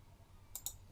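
Two quick, faint clicks of a computer mouse while using fitness-coaching software, close and isolated against a low background hum.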